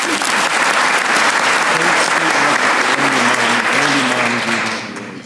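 Loud, steady applause from an audience at a small business recognition awards ceremony, with some voices mixed in, holding strong for about five seconds before starting to fade at the end.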